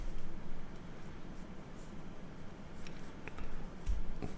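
A pencil drawing on paper as a dirt path is sketched in a spring meadow drawing, giving soft, continuous close-up scratching with slight swells in intensity.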